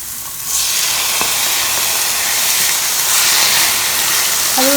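Shrimp hitting hot oil in a pan for a santol dish, a loud steady hiss of frying that swells as they go in and holds close and continuous, with a brief clink near the end.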